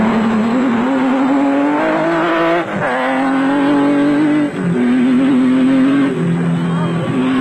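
Off-road race vehicles, including Nissan hardbody trucks, roar through a desert off-road race, a loud, continuous engine drone whose pitch rises and falls as they accelerate and shift, close and steady throughout.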